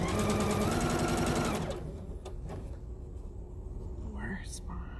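A sewing machine stitching fabric masks runs in a rapid, loud mechanical chatter for over a second, then stops, leaving faint clicks and handling noises with soft speech.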